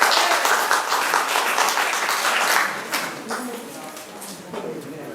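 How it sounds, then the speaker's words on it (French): Clapping in a group during a score announcement, a brief burst of hand claps that tapers into sparse taps, mixed with voices talking. "Applaudissez-vous."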